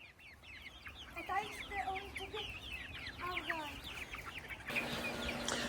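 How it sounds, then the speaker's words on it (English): Young chickens clucking and chirping close by in a farmyard, repeated short calls in overlapping bursts, with a brief rustle near the end. "All right, back with the chicks."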